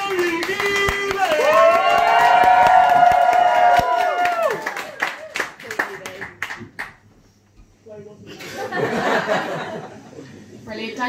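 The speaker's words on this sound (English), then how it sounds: "Please clap your hands, Canterbury. And make lots of noise for your final act this evening." A stand-up comedy crowd in Canterbury claps and cheers for the evening's final act. Loud, sustained music with held tones plays over it, sharp claps follow, then a brief lull before a burst of crowd noise and laughter.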